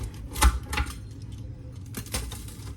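Crisp crunching and scraping as a pizza cutter cuts through pizza crust in a few short bursts, close up, with light clinks of metal against a pan.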